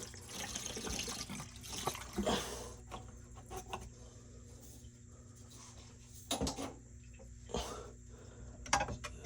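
Water mixed with algae flushing out of an air-conditioning condensate drain line, a faint, steady trickling flow with occasional louder gurgling gushes and splashes.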